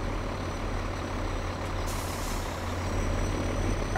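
Truck engine idling while coasting in Farming Simulator 2017, a steady low rumble with a continuous broadband drone and a brief hiss near the middle, loud with no speech.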